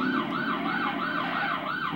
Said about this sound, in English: We didn't turn the siren off.